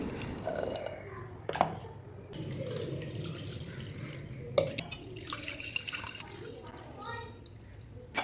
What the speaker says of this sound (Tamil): இதில் நல்லா தண்ணி ஊற்றி வடிகட்டி எடுத்துக்கலாம்.